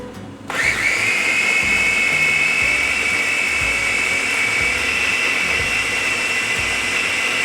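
A kitchen blender whirs steadily, blending chili paste with oil, starting up abruptly and then running at a constant high-pitched drone with a slight rhythmic churn underneath, with no talking.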